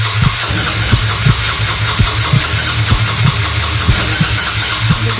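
Cold Yamaha NMAX or Lexi scooter engine on a new battery being cranked to start, a loud rapid chugging with regular sharp pulses, close and steady, no talk.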